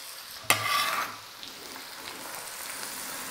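Chopped yellow onion hits a hot pan for chicken sopas, a sharp sizzle bursting up at once and then settling into a soft, steady frying hiss.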